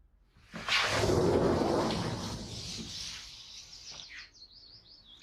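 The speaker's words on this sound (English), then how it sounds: "hear the early morning bird song" Early morning bird song among pines rises in a rush of bright chirps and calls, fading into a few thin, high twitters at the end.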